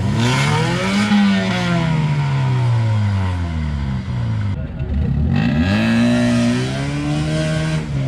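A Honda CR-V engine strains off-road, revving hard with rising and falling pitch sweeps, a brief dip and then a surge again, loud and close, while people shout over it.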